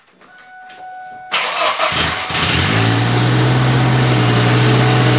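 A Ford Ranger pickup's engine cranks and catches, then settles into a loud, steady running drone close by, with a brief rev before it evens out and no talking.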